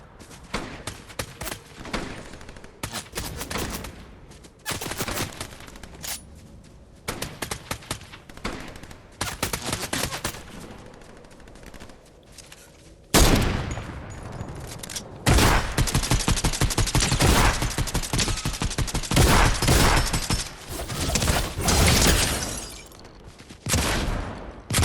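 Rapid SMG bursts in a video game crackle in dense volleys, loud and close, with sparse shots early on then long sustained strings of automatic fire in the second half.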